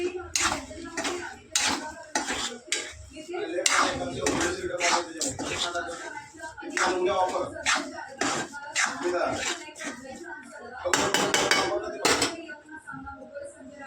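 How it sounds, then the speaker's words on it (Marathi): Metal spoon clanking and scraping against a pot as chopped jaggery is stirred into cooked wheat lapsi, a steady run of repeated knocks and clinks with a voice talking over parts of it. "आता आपण त्याच्यात हा चिरलेला गूळ घालून घेऊयात आणि मिक्स करून घेऊयात"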